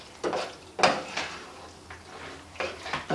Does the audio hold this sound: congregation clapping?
no